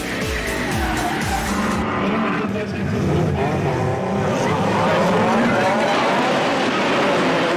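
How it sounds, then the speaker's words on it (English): Drift cars in a Formula Drift competition, including a Nissan 180SX, screeching their tires in long sustained squeals over roaring engines, loud and close, with a faint voice underneath. "Yokonobu Okubo, driving the world-famous Signalato Nissan against the turbo boost of Derek Rogers and the Cooper Tires kit replica"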